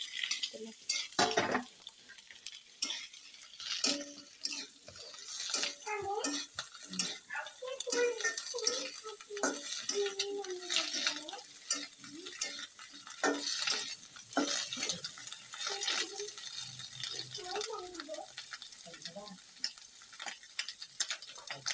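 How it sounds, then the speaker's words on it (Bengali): Cauliflower being lightly fried in oil for noodles, giving a soft continuous sizzle with frequent spatula clicks and scrapes on the pan, close by, while people talk over it at times. "এখন ফুলকপিটা ওখানে দিয়ে দিচ্ছি, একটু তেলে এটাকে ভেজে নিতে হবে, হালকা একটু।"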